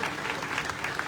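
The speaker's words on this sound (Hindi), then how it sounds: "तालियां होनी चाहिए ना" An audience at a welcome gathering claps in a brief, steady burst of applause, moderately loud, with a faint voice underneath.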